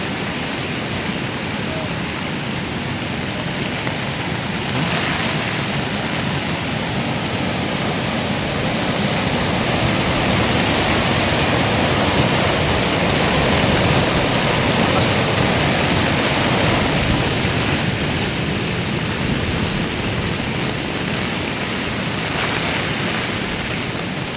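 A large river rushes during a typhoon near a trading post, a loud, unbroken roar of churning water that swells slightly midway and holds steady for the whole stretch, with no voices on top.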